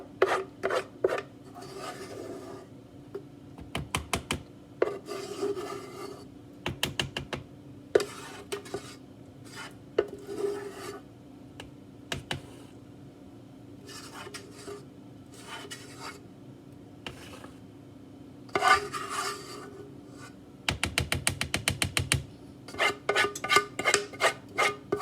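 Thick banana nut bread batter scraped from a bowl into a loaf pan, with repeated rasping and scraping strokes, occasional clinks of utensil on metal, and a faster burst of short scrapes near the end, close and moderately loud.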